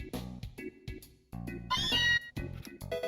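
A Meowth in the Pokémon fan game Ashen Frost lets out a string of chirpy, electronic cat cries, close and clear, repeating several short meows in a quick choppy rhythm with no talking.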